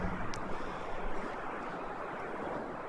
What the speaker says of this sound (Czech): Slyším tam vodu.